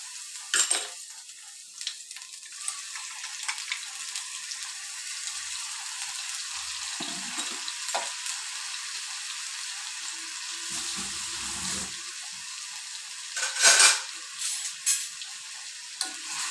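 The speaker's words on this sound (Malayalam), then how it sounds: "എണ്ണ ചൂടാകുമ്പോൾ ഇഞ്ചി വെളുത്തുള്ളി പേസ്റ്റ് ഇട്ട് കൊടുക്കും" Ginger garlic paste sizzles steadily in hot coconut oil for a chicken roast, with a constant frying hiss and occasional clinks and scrapes of a utensil stirring the pan.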